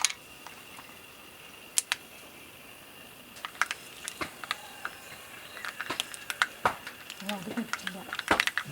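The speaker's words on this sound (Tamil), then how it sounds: "இந்த கடுகு பொரிஞ்சதும்" Mustard seeds spluttering in hot oil for a Kerala-style pork fry. Sharp scattered pops and crackles start sparse, then grow quicker and denser toward the end, with talking faintly underneath.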